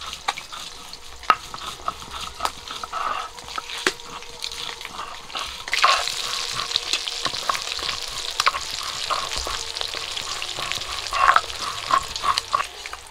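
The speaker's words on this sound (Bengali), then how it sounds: "মাছগুলো ভাজা হয়ে গেছে, তুলে নেব।" Pabda fish frying in oil in a home kitchen, a steady close sizzle with crackling bursts and occasional clicks of a utensil, no talking.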